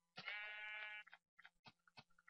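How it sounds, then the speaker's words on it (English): A sheep in a survival video game gives one sustained, clear bleat followed by a few short, faint game clicks and blips, quiet and alone without talk. "Oh, it's a sheep."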